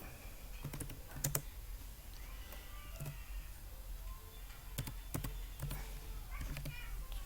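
Quiet clicks from typing on a computer keyboard during a Python coding lesson. Short bursts of keystrokes come in irregular clusters over faint room hiss.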